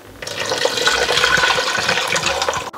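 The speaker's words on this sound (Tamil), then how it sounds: "ஊற்றி நல்லா கரைச்சி இதுக்குள்ளே சேர்க்கிறேன்." Fish curry masala paste mixed with water pours and splashes into a pot, a loud continuous liquid rush lasting a couple of seconds before stopping abruptly.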